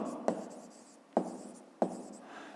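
A pen writes a cube volume formula on paper for a fifth-grade maths exercise, three quick strokes each starting with a sharp tap and trailing into a soft scratch, close and quiet.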